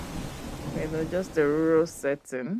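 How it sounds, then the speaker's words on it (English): Heavy rain pours onto the zinc roof of a small rural house, a steady broadband hiss beneath someone speaking close by. "the rain is falling directly onto the zinc roof and just pouring down"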